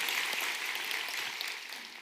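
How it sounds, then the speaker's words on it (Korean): A church congregation claps together in worship after a Sunday sermon reading, steady dense applause filling the room without pause, fairly distant and even throughout. "우리 하나님께 감사와 영광의 박수 올려드리겠습니다"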